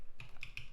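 Three quick, light clicks of typing on a computer keyboard with a slightly sticky key, close and crisp, each tap short and sharp.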